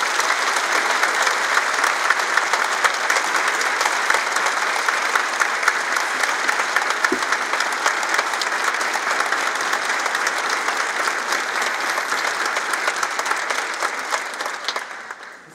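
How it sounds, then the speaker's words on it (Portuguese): Sustained, dense applause from a large audience at a formal opening ceremony of a national congress, steady and loud throughout before tapering off at the end, with no talk over it. "despedimos-nos de seus integrantes com uma salva de palmas"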